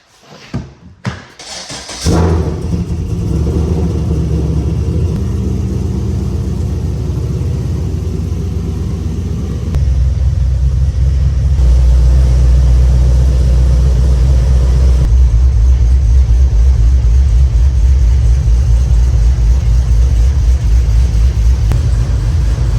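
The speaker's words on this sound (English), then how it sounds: "I got to move a few cars out of the shed" A car engine cranks and starts inside a shed, then idles with a steady low rumble that grows louder and fuller as the car is moved out, running alone without talk.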